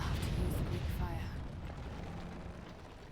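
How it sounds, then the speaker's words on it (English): Greek fire goes off with a deep rumbling explosion in Rise of the Tomb Raider, a loud boom opening the moment and then slowly fading into a long low roar. "Looks like I'll have to use the Greek fire."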